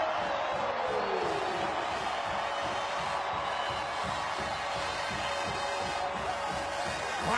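A stadium crowd at Albertsons Stadium cheers a Boise State touchdown against San Diego State, making a steady, dense roar of voices that holds loud from start to finish.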